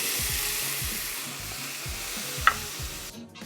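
Chopped cauliflower and spices sizzle steadily in hot oil, with several scraping stirs of a utensil against the pan and one sharp clink near the end, close and alone without talk.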